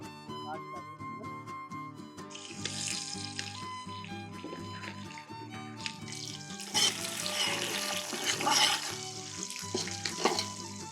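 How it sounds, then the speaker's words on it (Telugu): Onions and dry masala fry in a pan of cooking oil for coconut milk chicken, giving a steady sizzle with stirring scrapes that swells louder in the second half over background music. "ఉల్లిపాయలు ఎర్రగా మంచిగా వేగినాయి కదా"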